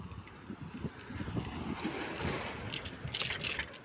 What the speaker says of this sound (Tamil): ஆக்சுவலாக இந்த கடகடன் சைக்கிள் சவுண்டு வருது பார்த்தீங்களா?